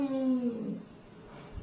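A cat lets out a loud, drawn-out wail that slides downward in pitch, then fades into a quieter, rough tail.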